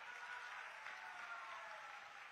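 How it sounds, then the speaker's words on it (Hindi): A large crowd at an outdoor political rally in Salempur, Uttar Pradesh, clapping for the Ballia MP, a dense, even wash of applause heard at a distance and fairly faint, steady throughout. "बलिया के सांसद जी के लिए जोर से ताली बजाइए जरा।"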